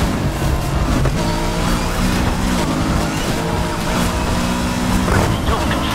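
Car engine roaring through a police chase in the video game Need for Speed, loud and sustained with shifting revs and occasional tire squeal.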